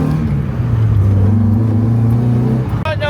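A Mazda Miata engine pulls steadily under acceleration while driving, a loud continuous drone heard from inside the car, with a brief break near the end.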